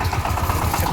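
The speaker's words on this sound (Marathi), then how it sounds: "ट्रॅक्टर लगेच चालू बी आहे" A farm tractor's engine runs steadily at idle, giving a low, even rumble with a faint pulsing throb, heard close and alone for a brief moment.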